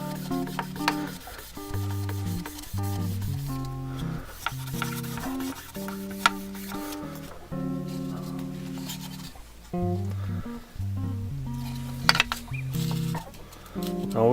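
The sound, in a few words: sanding 3D-printed ABS and PLA parts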